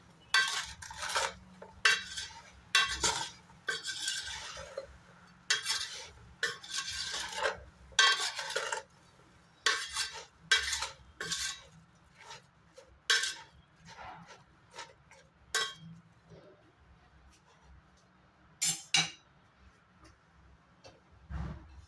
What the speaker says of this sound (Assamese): এতিয়া এখন প্লাষ্টিকৰ হেতাৰে ধুনীয়াকৈ মিলাই ল'ম।